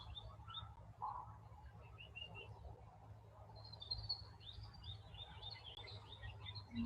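Birds chirping outdoors, faint scattered tweets and brief calls coming from a distance over a low background hum.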